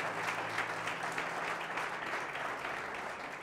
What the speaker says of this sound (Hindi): क्यों ना ताली बजाकर प्रभु का धन्यवाद करें